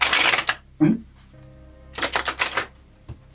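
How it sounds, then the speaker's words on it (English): Crisp riffling and soft slaps of tarot cards being shuffled, in two short bursts separated by a quiet pause, close by. "I want to shuffle these because I don't remember if I did it yet."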